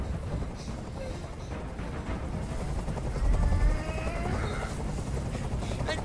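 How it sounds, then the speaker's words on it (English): Loud helicopter rotor thumping and turbine whine in the video game Detroit: Become Human fill the clip, with a swell of heavier low rumble midway through. "I can't stand that noise anymore. Tell that helicopter to get out of here."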